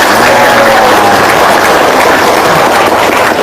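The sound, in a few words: audience applause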